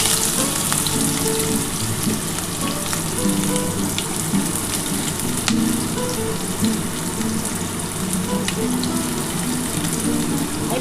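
Onion goes into hot oil and fries with a dense, continuous loud hiss and crackle that fills the space without letup, close by and alone.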